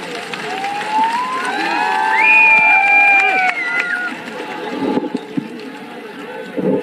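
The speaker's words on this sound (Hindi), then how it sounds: "मैं चाहूंगा तालियों से स्वागत करिए माननीय प्रियंका गांधी जी का" A rally crowd at a Congress public meeting in Madhavganj on Hardoi Road welcomes Priyanka Gandhi with sustained, swelling applause and cheering, loudest midway, with scattered shouts.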